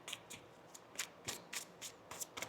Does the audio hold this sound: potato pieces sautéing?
no